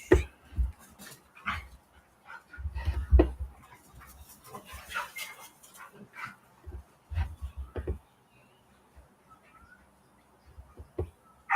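Several dogs bark in short bursts with occasional whimpers, loud and close at first, then thinning into sparse, fainter yelps and rustling near the end.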